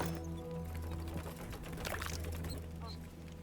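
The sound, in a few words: water being collected in Voidtrain video game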